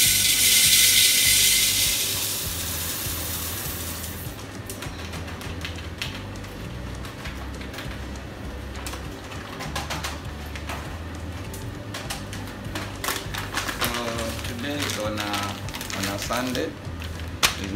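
Fast coffee grinder grinding Colombian beans at a café barista station, a loud dense grinding burst for about four seconds, followed by clattering, tapping and ratcheting handling sounds while a person speaks.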